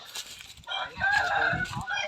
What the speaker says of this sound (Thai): ไก่ก็มีนะครับ ไก่มีนะครับ